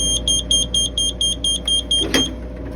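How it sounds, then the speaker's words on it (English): A snack vending machine with a rigged wiring harness beeps steadily, giving about ten short, evenly spaced high-pitched beeps over a low background hum, with a brief knock near the end. "And then that's what it does all day, beeps."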